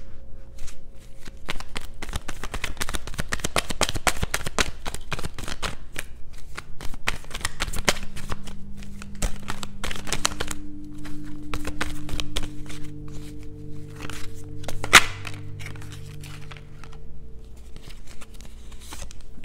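Tarot cards are shuffled close by in a long run of rapid riffling and patter, which then fades into quieter card handling.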